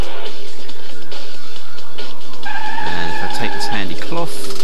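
A car engine revs and its tires screech in a tilt-controlled driving game demo on Windows 7, loud and close, with shifting tones and skids under a man's speech.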